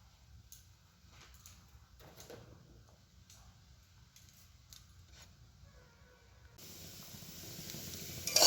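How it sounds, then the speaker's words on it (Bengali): Small potatoes frying in a pan: a quiet, faint crackle with a few scattered clicks, then a steadier hiss that swells toward the end, with no talking. "এই যে আলু ভাজা করছি, ছোটো ছোটো আলুগুলো ভাজা।"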